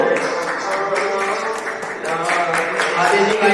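Loud applause from children at a school farewell ceremony at a gurukul, dense continuous clapping with voices mixed in throughout.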